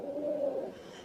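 A single soft pigeon coo, low and close, lasting about a second in a quiet setting.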